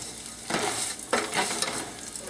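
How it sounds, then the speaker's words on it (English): Food frying in ghee in a pan gives a soft sizzle, broken by a few short bursts of stirring scrapes, heard close and without talking. "we're going to cook this with the ghee for about 5-10 minutes until it comes to a nice golden brown"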